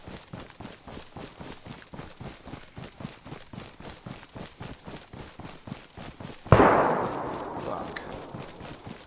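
Steady rhythmic footsteps of a DayZ character running, then one sharp loud gunshot crack with a trailing echo, after which the running continues.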